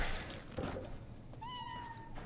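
A cat meows in the Fallout Shelter video game, a short rising and falling tonal call in the second half, following a brief scuffle and over faint background game noise.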